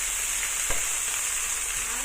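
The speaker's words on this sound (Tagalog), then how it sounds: "I-fry lang natin yun hanggang sa lumabas yung aroma ng ingredients natin bago natin ilagay ang chicken" Ginger and garlic fry in a pan with a soft, even sizzle that hisses steadily throughout, broken once by a single brief clink of a utensil.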